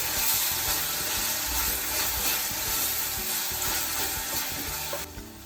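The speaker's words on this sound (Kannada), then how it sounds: "ಈಗ ರುಬ್ಬಿರೋ ಟೊಮೆಟೊನ ಇದಕ್ಕೆ ಹಾಕ್ತಾ ಇದ್ದೀವಿ. ಹಾಕಿ ಚೆನ್ನಾಗಿ ಫ್ರೈ ಮಾಡಬೇಕು." Ground tomato paste fries in a pan for bhindi curry, a loud continuous sizzle with stirring scrapes, steady and close, fading slightly at the very end.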